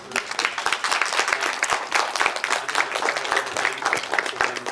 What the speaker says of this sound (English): So let's give Louie one more round of applause.